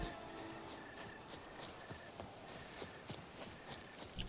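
The horse Roach walks at an easy pace in The Witcher 3, its hooves giving a steady, even clip-clop that sounds close and fairly quiet over soft ambient game sound.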